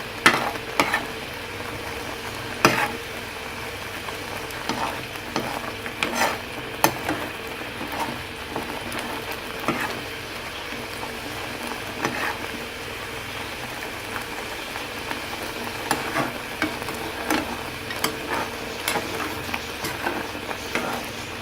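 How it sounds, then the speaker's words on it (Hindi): Spoon stirring thickening falsa (grewia) jam in a pan, a continuous soft bubbling and scraping texture with irregular clicks and taps of the spoon against the pan over a long stretch, no voices. "चम्मच साथ साथ हिलाते रहें।"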